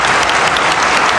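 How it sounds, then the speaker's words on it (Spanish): An auditorium crowd at Ecuador's National Assembly presidential handover applauds outgoing president Lenín Moreno with loud, sustained clapping that fills the room. "Aplausos para el presidente saliente Lenín Moreno Garcés por parte de todos en el auditorio"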